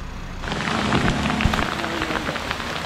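Steady rain falls outdoors by a lake and dam during a bike trip, a dense, continuous hiss of drops pattering on surfaces, close and fairly loud with no voices.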